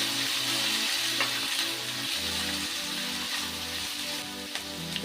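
Capsicum, carrot and other vegetables for spring rolls fry in a pan with a steady dense sizzle. Rhythmic low thumps and scrapes of stirring run through it, and no voices are heard.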